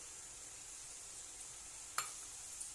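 A little oil frying in a pan for a red chutney, giving a steady, even high sizzle throughout with one brief clink of a utensil near the end.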